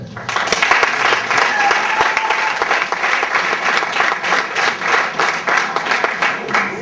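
An audience at a football academy press conference in Togo breaks into sustained applause, thick continuous clapping holding a loud, steady level from start to finish.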